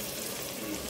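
Tomatoes and green chillies frying in a pan for a Chettinad mushroom biryani, a brief dense sizzle, steady and close, with no voices.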